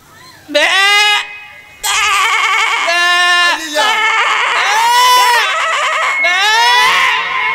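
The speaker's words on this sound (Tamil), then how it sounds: "எங்க கத்துறா மறுபடியும் கேடா" A male goat bleats loudly and close by in a long series of wavering, scream-like cries with brief breaks between them.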